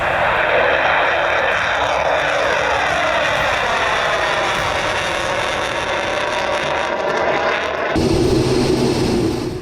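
Su-34 fighter jet flying overhead in wartime, a loud, continuous jet engine roar with a sweeping, phasing rush that holds steady for about eight seconds before shifting to a deeper, rougher rumble near the end.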